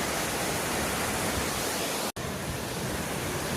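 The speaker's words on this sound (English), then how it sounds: "This is at the bottom of the falls." Beale Falls in Northern California pours as a loud, steady broadband rush heard from the bottom of the falls, broken by one brief dropout.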